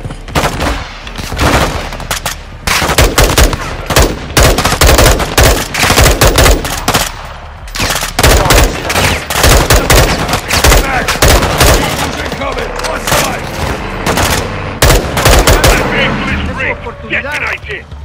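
Dense cover fire in Call of Duty: Modern Warfare 2 during a prison break: loud, sustained machine-gun bursts and rapid gunshots in a near-continuous barrage, with occasional shouted voices.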